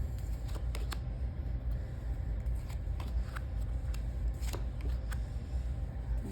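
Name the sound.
handling playing cards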